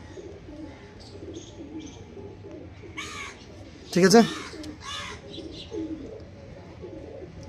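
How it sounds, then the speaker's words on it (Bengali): Two Andhra pigeons give a few soft, throaty coos in short bursts, close by, while a person talks briefly and other birds chirp faintly in the background. "এই হচ্ছে পায়রা দুটো"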